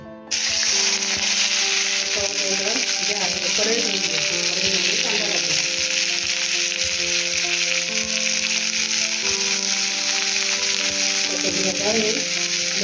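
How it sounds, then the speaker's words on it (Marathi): Coriander, coconut, onion, ginger and garlic roast in a pan for a masala paste, producing a loud, continuous, close-up sizzle that runs the whole time with faint tonal sounds behind it. "कोथिंबीर खोबरं कांदा आलं लसूण ती आता भाजून घेते"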